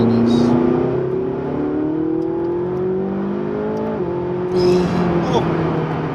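A McLaren 675LT accelerating hard down a runway, its engine note climbing steadily through the revs with a brief dip at a gear change, loud and close, with people talking over it.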